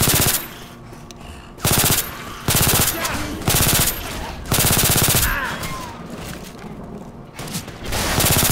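Bursts of automatic gunfire in the zombie shooter Left 4 Dead 2, loud rattling volleys starting and stopping in several separate strings with short pauses between, backed by game ambience and a little talk.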